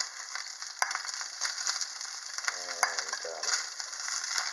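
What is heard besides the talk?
meat with kimchi frying on a stove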